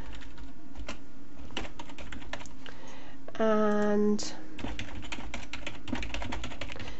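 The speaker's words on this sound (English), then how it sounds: "I'm sorry if my typing is really loud" Close, rapid clicking of keys typed on a computer keyboard, continuous and fairly loud, with a brief spoken word in the middle.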